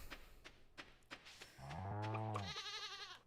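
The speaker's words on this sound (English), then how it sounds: "Bleat, right? That sound is a bleat." A goat in the Stardew Valley farming game gives a clear, wavering bleat that rises and falls, loud and alone after a few soft taps.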